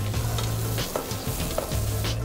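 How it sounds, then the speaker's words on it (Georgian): A sauce with red wine, red pepper, basil and paprika sizzles in a pan while being stirred, a close, dense hiss with a low hum and brief spoon scrapes. "ამას კარგად მოურევ"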